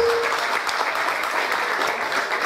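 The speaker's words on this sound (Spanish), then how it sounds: "Fuerte el aplauso para la señora alcaldesa." Steady applause from the audience at a town festival coronation night for the mayor, a full, even roar of many hands clapping close by throughout, with no pauses.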